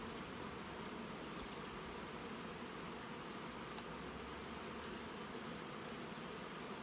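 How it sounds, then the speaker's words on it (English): Honey bees buzz in a dense, steady drone inside a crowded late-season nuc hive, a close, continuous hum with no pauses and no voices. "There's so many bees in here."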